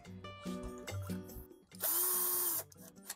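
Screws being tightened during assembly of a Ryzen 9600X and RTX 5060 PC with a dual-tower air cooler: close whirring bursts from a small power driver, tonal hums and clicks, and one louder sustained whine near the middle.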